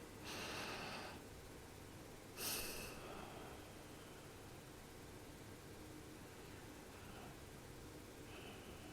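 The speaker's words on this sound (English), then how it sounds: "so you can hear the way I breathe" A person breathes close to the microphone: two breathy inhale-exhale bursts early on, then softer, fainter breaths over a constant background hiss.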